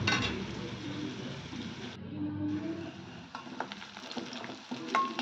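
Onions sauté in a generous amount of oil, giving a continuous close sizzle that drops briefly, then resumes with light stirring scrapes and clicks.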